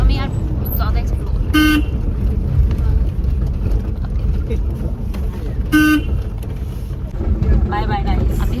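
A hotel car drives through traffic toward a train station, with a steady rumble of road noise inside the car. Two short, loud horn toots sound several seconds apart, and faint voices are heard in the background.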